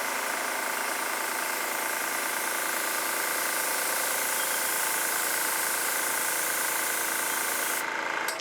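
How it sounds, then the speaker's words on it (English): An airbrush hisses steadily as it blows fluid acrylic paint across a poured canvas, a close, loud, unbroken spray of air that cuts off abruptly at the end. "take my airbrush"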